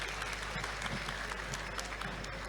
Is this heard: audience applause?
yes